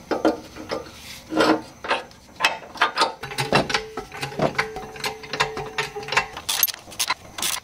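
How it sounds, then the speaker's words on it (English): Ratchet clicking and metal rasping as front differential bushing bolts on a Land Cruiser are torqued down, a close, loud series of repeated ratcheting strokes in uneven bursts with no talk. "all gonna be torqued down to 137 foot pounds"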